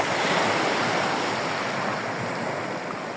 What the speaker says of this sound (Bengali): ঢেউ এসে পাথরগুলোকে ঢেকে দিচ্ছে।